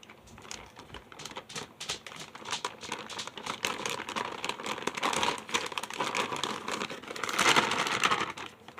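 Plastic packaging from a resin-mold unboxing crinkles and rustles up close, a dense run of crackling crumples and small taps that swells louder near the end.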